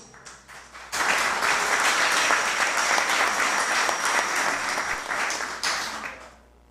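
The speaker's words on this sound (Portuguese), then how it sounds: "receba os aplausos desta Casa de Leis." Crowd applause at a municipal council award ceremony erupts after a brief quiet moment, then runs as steady, dense clapping for several seconds before tapering off.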